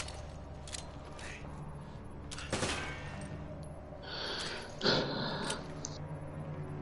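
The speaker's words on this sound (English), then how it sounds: "just shoot off one more machine gun bullet and be fine" Machine gun fire in Resident Evil 5 comes as a few short, sharp bursts in the middle and late part, over a steady low game hum, with no talking.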